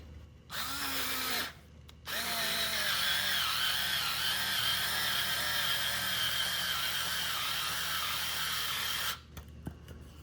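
Cordless electric screwdriver with 5Nm torque driving a large screw, a steady whirring motor hum that holds for several seconds after a brief start and pause, close and loud, then stops.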